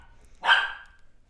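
A young female puppy gives a single sharp, fairly loud bark up close, then quiet follows.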